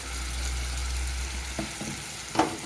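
Soaked moong dal, lightly dry-roasted, is stirred and fried with spices in a pan, a steady low sizzle with a few soft scrapes of the spoon near the end, no talking.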